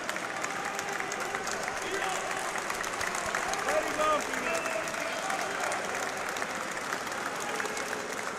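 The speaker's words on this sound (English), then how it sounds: "the crowd really responding to that and giving a warm round of applause to the Italian as he leaves the arena too" A crowd applauds a boxer leaving the ring at a junior European boxing championship semifinal, steady warm clapping that fills the arena alongside background voices.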